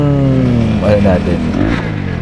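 An FKM 3GP motorcycle fitted with a full exhaust system runs at a steady idle with a low, throbbing exhaust note, while a person speaks over it.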